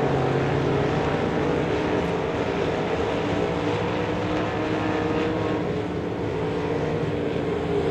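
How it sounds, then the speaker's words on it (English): Race cars roar around Devil's Bowl Speedway, a dense, continuous engine drone heard from some distance, steady and unbroken with slight swells as the field passes. "Chase Raymond in that number one using the center groove here at Devil's Bowl Speedway"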